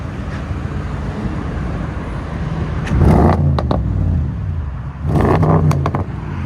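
A 2017 Audi S7 widebody with a 4.0L twin-turbo V8 and muffler delete, idling loudly up close, then sharply revved twice to the limiter with short, punchy blips over a rumbling idle.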